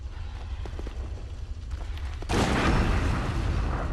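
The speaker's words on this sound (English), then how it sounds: "Now we'll try it with the fire saw spear." A fire saw spear attack lands in Bloodborne, a deep booming hit that erupts midway after a few faint clicks and rumbles on loudly to the end.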